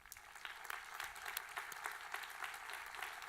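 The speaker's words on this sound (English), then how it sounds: "So please applaud these individuals to their dedication and service to the college." An audience at a community college's 50th annual commencement ceremony applauds in a steady, dense wash of clapping heard from a distance, fairly faint and unbroken.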